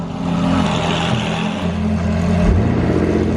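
A Ferrari 430 engine runs loudly and steadily nearby, a dense mechanical roar with a slight swell in pitch partway through, no voices.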